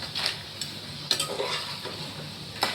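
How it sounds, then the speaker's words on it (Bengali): Crab is being stirred in a cooking pan over a quiet sizzle, with a few distinct scraping and clinking strokes of a utensil against the pan at irregular intervals, close up and without any speech. "এবার আমি এটাকে নাড়বো।"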